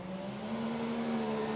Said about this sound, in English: I know you guys hear that turbo annihilate.